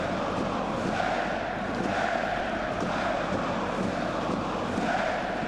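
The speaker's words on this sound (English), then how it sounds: "Fantastic to see a capacity crowd here." Capacity crowd at a third-division German football match between 1. FC Magdeburg and TSV 1860 München, a steady broad roar of supporters filling the stadium, constant and even throughout.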